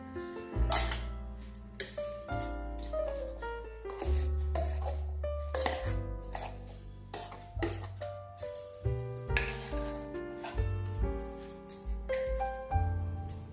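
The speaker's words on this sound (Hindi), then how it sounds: "अभी इसको हम एक बर्तन में निकाल लेंगे।" Ground oats and semolina batter is moved from a mixer jar into a vessel with repeated metallic clinks, taps and scrapes at an irregular pace, close but fairly quiet, over a soft steady background tone.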